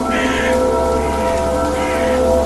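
Steady rain falls in a forest in an animated cartoon, a constant even hiss with a low background hum and no pauses.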